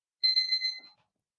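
An electronic alarm beeps once in a bright, steady two-tone burst lasting under a second, fairly close and clear, then cuts off into silence.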